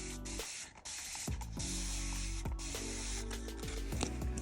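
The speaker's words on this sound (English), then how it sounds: "I have a spray bottle here with water, and I'm just gonna spray my water slide all over." A spray bottle of water squirts in a rapid series of short hissing pumps onto a water slide decal, close up and crisp, with brief gaps between some bursts.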